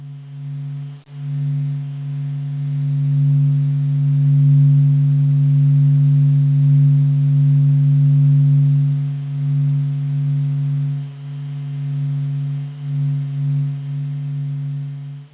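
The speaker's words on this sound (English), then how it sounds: "we have added the sound of the sun, which was created by observing the vibrations from the sun over 40 days and transformed into" Sonified sound of the Sun made from 40 days of observed solar vibrations: a steady low humming drone with a faint swelling and fading loudness, continuous and alone.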